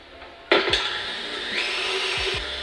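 Electric mixer whirring through batter, starting with a sudden loud onset and then a steady motor buzz, with a couple of soft knocks near the end, no voices.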